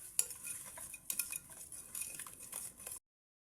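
Sugar being stirred into a mixture in a bowl for Tunisian biscuits, with a spoon scraping and clinking against the sides in quick, irregular strokes, close and fairly quiet, stopping abruptly near the end.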